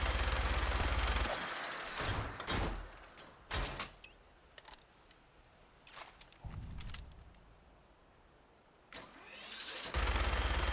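Plasma magazine gunfire from a Fallout 76 weapon, heard as loud, separated single shots and short bursts in an otherwise quiet outdoor game scene, with heavy bursts at the start and end.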